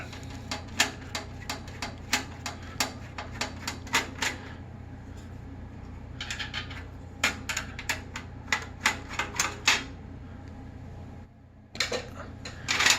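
Screws being removed from a Thermaltake Matrexx 55 V3 computer case to fit a graphics card, a run of sharp, close clicks and ratcheting ticks in uneven bursts with short pauses, no talking.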